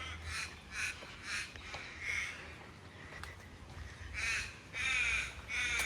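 Crows caw repeatedly on a quiet suburban street in Box Hill, Melbourne's eastern suburbs, harsh calls in loose clusters, moderately near, over a low steady background hum.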